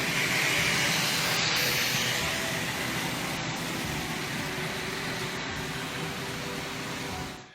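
Model steam locomotive with brass gears running, a steady, loud broadband hiss and mechanical rush that slowly eases, no voices.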